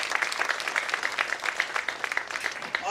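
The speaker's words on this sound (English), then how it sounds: "Let's please give both of them a round of applause." Applause from the audience at a West Virginia State University ceremony, a brief round of moderately loud crowd clapping with distinct individual claps and a slight swell at the end.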